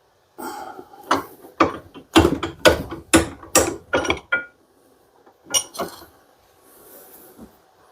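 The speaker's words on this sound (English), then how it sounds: "I'm going to stick just the very tip in the vise." Tip of a North Bros screwdriver being clamped in a vise: a close series of rhythmic metallic ratcheting clicks and clanks, several in quick succession, then a pause and a couple more clanks.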